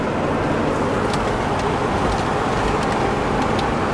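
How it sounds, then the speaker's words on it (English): Steady, unbroken road rumble from inside a car towing a trailer, low engine and tire drone filling the cabin at constant loudness with no talking. "So this is Jeffrey driving and with the trailer behind."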